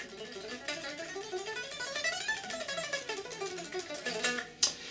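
Rapid alternate-picked electric guitar run in a shred style, a fast six-note pattern cycling up and down in even, steady notes, played alone and close with a sharp accent near the end.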